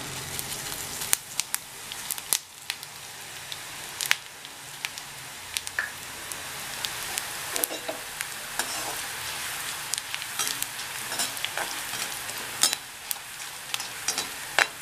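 Coriander dry-roasting in a pan for an Onam recipe gives a steady, crackling sizzle broken by sharp scrapes and taps of stirring, close and fairly quiet, with no talking.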